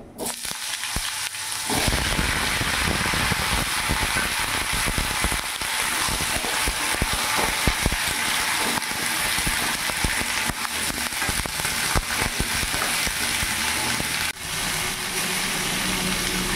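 Chopped pumpkin frying in a pan on a medium gas flame, a steady loud sizzle and crackle that starts after a brief quieter moment and continues without letup.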